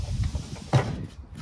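A storage drawer in a Toyota Sienna camper build slides shut, a short rolling scrape ending in a single soft thud, close and fairly quiet.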